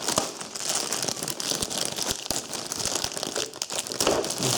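Foil wrapping is pulled off a white Roborock S5 Max robot vacuum, giving a continuous, close crinkling and crackling with sharp rustling bursts throughout, and no talk.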